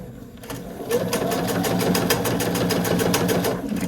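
A sewing machine back tacking across quilted binding on a dog treat toy runs in a fast, steady stitching rhythm, close and loud, with a brief start before it settles into a continuous run.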